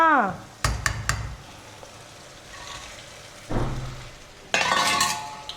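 Tomato and onion fry for a prawn dish, with a soft sizzle broken by several scraping stirs and sharp clinks of a utensil against the pan, close by.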